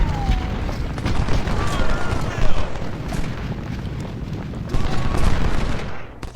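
Massed musket fire and artillery rumble through a Civil War battle in a video game, with repeated crackling volleys and booms building into a dense, continuous din that swells and falls, with no clear pauses.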